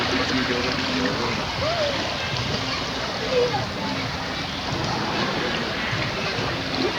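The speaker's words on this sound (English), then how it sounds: "I point blank refuse to go through this waterfall." Waterfall at the Blizzard Beach water park: a constant loud rush and splash of falling water, close by and steady, with faint voices and children's chatter in the background.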